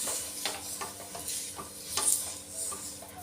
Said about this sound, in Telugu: కొంచెం అంత నూనె వేసుకొని ఈ ప్యాన్ మొత్తం ఇలా తుడుచుకోవాలి